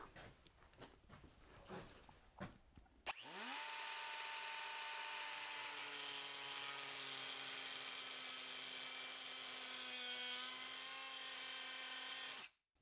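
A DeWalt power tool clamped in a vise starts after a few seconds of clunky handling noises. It then runs as a loud, steady, high-pitched whine for about nine seconds before cutting off abruptly.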